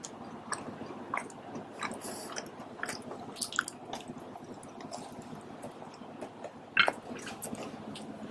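Someone chews a cold, uncooked cherry Pop-Tart close to the microphone, with soft wet crunches and mouth clicks repeating irregularly in a quiet room, and one sharper crackle partway through.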